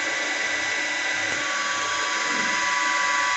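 Metal lathe spinning at 1200 RPM, facing a cutter across the end of a valve part; a steady, dense high whine with a constant tone runs without a break, close and loud.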